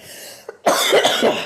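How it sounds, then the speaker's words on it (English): A small throat noise, then one harsh, close cough that trails off into rough breathy spluttering. "You guys could hear me coughing and dying."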